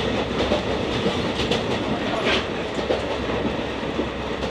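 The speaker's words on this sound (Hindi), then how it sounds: "काफ़ी हाइट से जा रही है भाई ब्रिज के ऊपर से ट्रेन।" A train in India crossing a high bridge, heard from on board: a steady, loud rumble with rhythmic clickety-clack of the wheels on the rails and no talking.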